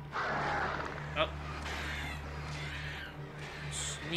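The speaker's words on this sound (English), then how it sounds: "Sneaky little fucking birds." Crows cawing in the Alan Wake video game, harsh squawking calls over a low steady hum, moderately loud, with a voice speaking alongside them.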